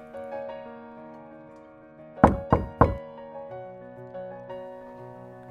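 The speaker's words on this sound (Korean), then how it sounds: "손님의 현관문을 두드렸다." Three quick, sharp knocks on a passenger's front door by a taxi driver, evenly spaced and close, standing out over soft sustained background music that plays throughout.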